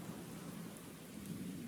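Heavy rain beats steadily on a tin roof during a midnight thunderstorm, a dense continuous roar with low rumbling beneath and no voices.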